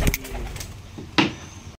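Giribaj pigeons on a farm coo and stir close by, with a soft burst at the start and another sharp flutter of sound just past the midpoint before it cuts off.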